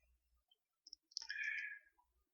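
A few quiet computer mouse clicks in an otherwise silent room, with a short, brighter burst of sound right after them.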